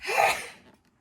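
A single sharp sneeze, close and fairly loud, with a burst of breath that quickly fades into quiet.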